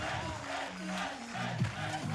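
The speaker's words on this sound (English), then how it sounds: "we can hear the Spanish cheering now" A Spanish home crowd cheers at a trials bike world championship final, a steady distant roar with rising shouts, while a commentator talks over it.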